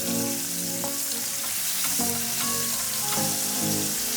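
Beef burger patties cook in a pan over low heat, giving off a steady, even sizzle that runs the whole time with a faint tonal background and no talk.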